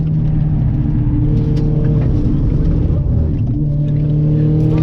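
Ford Fiesta ST180 race car with RCS Tuning stage 3 modifications lapping Castle Combe circuit, a loud, steady in-car engine drone with shifting harmonic tones as it powers through a corner, continuous and close throughout.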